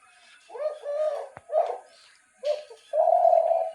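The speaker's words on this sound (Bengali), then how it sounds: "এখন ধলগু গু ডাকতেছে" A dove gives several soft, low cooing calls in short phrases, close and clear against a quiet background, the last coo longer and steadier.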